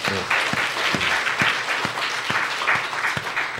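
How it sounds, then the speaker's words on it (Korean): A church congregation claps after a prayer, a moderate, even patter of hands with a few sharper, lower thumps recurring at roughly half-second intervals under the clapping. "우리 박수 한번 쳐드립시다"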